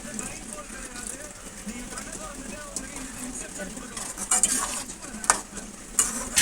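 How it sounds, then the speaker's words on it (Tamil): Steady scraping and swishing of a spoon stirring water into karuvattu kuzhambu, a dried fish curry, in a pot, with a few sharp clinks of metal near the end; faint talk in the background. "இப்போ தண்ணி கலந்தாச்சு."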